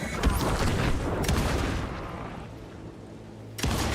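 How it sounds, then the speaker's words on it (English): Shotgun blasts in the survival horror game Alan Wake 2: loud booming shots open the moment and another sharp blast lands near the end, with a quieter rumbling stretch between them. "So I might need to use my shotgun to take these guys out."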